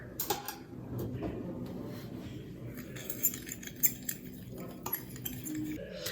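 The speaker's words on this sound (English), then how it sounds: "now we're just going to give it a good mix with a fork" A fork mixing sugar and cinnamon in a dish, making quick light clinks and gritty scrapes, close and fairly quiet, with no voices.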